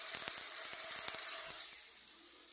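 Ground veal and lamb sizzling in a frying pan with spices, a steady hissing fry broken by a few faint clicks and taps, close and quiet with the sizzle easing toward the end.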